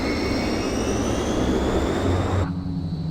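Fokker 27 turboprop engines in Microsoft Flight Simulator 2020 roaring under reverse thrust on landing, a loud, steady broadband rush with a faint whine that cuts abruptly quieter near the end; no voices.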